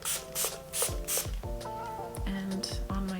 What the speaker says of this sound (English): I'm gonna go ahead and spray this all over this side